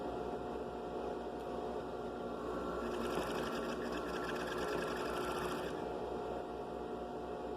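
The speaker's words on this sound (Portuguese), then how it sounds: "Pisou no pedal para frente, a máquina costura." A looper-type sewing machine with no bobbin, built like an overlock, stitches under foot-pedal control: a steady close motor whir that rises into faster, brighter stitching midway, then eases back.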